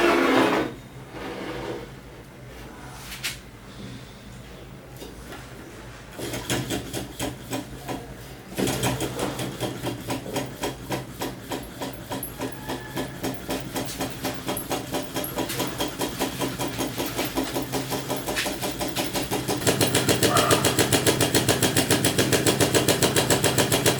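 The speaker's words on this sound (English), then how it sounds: "So presenting to you a working soda can Stirling engine." A small homemade Stirling engine built from soda cans runs steadily, giving a fast, even mechanical ticking and whirring that gets quicker and louder over the run, close and alone with no voices.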